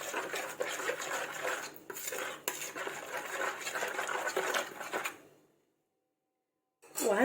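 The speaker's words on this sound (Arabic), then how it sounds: "هقلب الاول الخليط كويس" A spoon stirs and scrapes through a coating mixture for crispy chicken tenders in a bowl, with steady clinking and swishing for about five seconds. Then it goes quiet before a final clatter.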